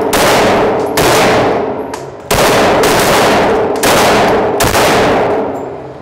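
A rapid series of loud, close gunshots from a Polymer80 pistol, each sharp crack followed by a long ringing decay and overlapping the next. No one talks.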